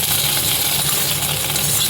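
Paneer frying in ghee in a pan, a steady loud sizzle with crackling throughout, close up and without talk.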